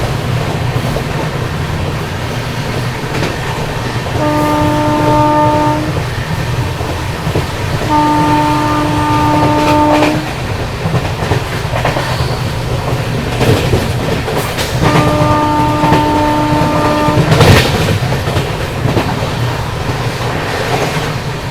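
Shatabdi Express Vistadome train running past a small station, with a steady rumble and rattle of the carriages throughout and three separate sustained horn blasts sounding clearly over it.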